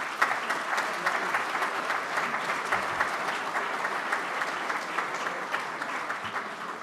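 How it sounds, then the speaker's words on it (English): Audience applause at an indoor talk, a dense, steady patter of many hands clapping at moderate distance that carries on evenly for several seconds without a break. "let's give him another round of applause"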